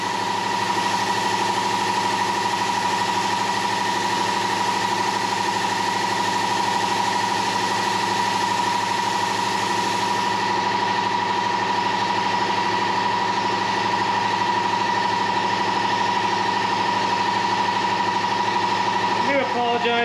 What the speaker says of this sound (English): I don't have a compressor room in this shop, so you get to listen to that annoying thing